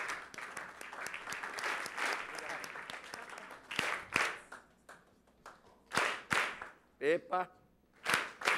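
A round of applause during a lesson, fading in a crowd of clapping that thins into a few sharp, separate claps toward the end, with a short spoken exclamation.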